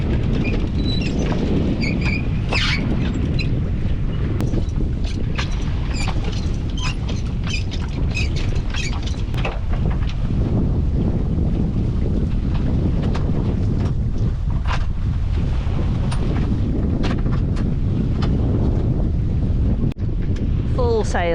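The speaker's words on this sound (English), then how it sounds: "The wind's died just a little bit now" Strong wind roaring over a sailboat at sea, a loud, constant buffeting rush with water splashing and faint creaks underneath, and occasional voices mixed in.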